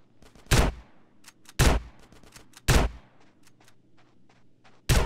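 Gunfire rings out in GTA San Andreas during a street shootout, with four loud, sharp bursts spaced about a second apart and lighter scattered shots crackling in between.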